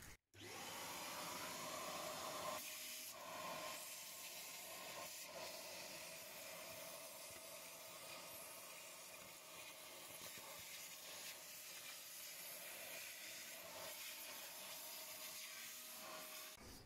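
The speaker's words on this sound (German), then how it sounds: "Also nehmen wir uns erstmal so einen Staubsauger her." A vacuum cleaner runs steadily for the whole stretch while cleaning dirt out of the air filter box of a Mercedes-Benz C-Class W204, a loud, continuous whooshing roar with slight shifts as the nozzle moves.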